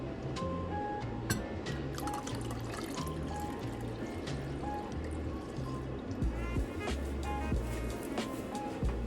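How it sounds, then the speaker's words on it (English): Eight ounces of black New Orleans coffee are poured into an herbal liquid mixed with melted African black soap to make a shampoo. It gives a soft, continuous trickle with scattered drips, fairly quiet over a steady low background. "now we are going to put 8 ounces of black New Orleans coffee"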